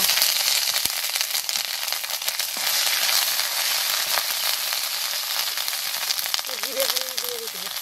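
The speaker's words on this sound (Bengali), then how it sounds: "তেজপাতা দিয়ে দিব শুকনো লঙ্কা সনবড়া আদা বাটা দিয়ে দিব" Bay leaf, dried chili, lentil dumplings and ginger paste fry in hot oil with a steady, loud sizzle and crackle throughout; a brief voice-like tone is heard near the end.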